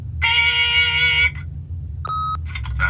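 Electronic beeps from an answering machine in the video game The Wolf Among Us: a long sustained tone, then a short higher beep followed by a few brief chirps over a low background hum.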